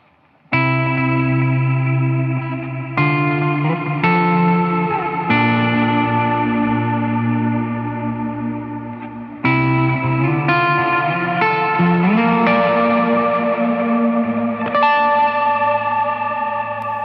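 Electric guitar on the bridge pickup through a Veritas Custom Minimaster amp, sustained chords rung out one after another with a bright, slightly driven tone and washy effects, loud and close with no talking.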